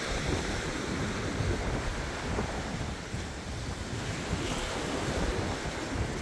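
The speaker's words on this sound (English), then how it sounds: "you can see the ocean, how much the ocean's beating this poor house up" Ocean surf pounds a beach in Dauin, Philippines, near a fishermen's house: a loud, constant wash of breaking waves mixed with wind buffeting the microphone, with no voices.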